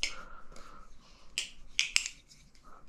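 Crisp clicking and tapping from a JK Designs Embargo balisong trainer fitted with spacers as it is flipped, a quick irregular series of sharp metallic clicks, close and fairly quiet, with no one talking.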